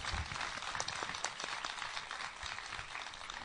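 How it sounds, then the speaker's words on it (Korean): Studio audience applause welcoming a professor onto a Korean political talk show, a steady dense wash of clapping held at an even, moderate level throughout. "큰 박수로 맞이하겠습니다"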